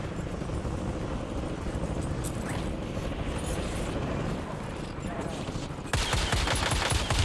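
Dense, continuous automatic gunfire and explosive bursts from the Goblin, a full-auto weapon firing explosive rounds in Warzone, loud and sustained throughout with a sharper, brighter burst near the end.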